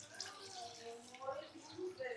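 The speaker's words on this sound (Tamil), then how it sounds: "அது வேகிறதுக்கு தேவையான தண்ணி." Water pours into a pressure cooker of meat for a village-style rooster curry, a soft splashing wash heard under a person talking in Tamil.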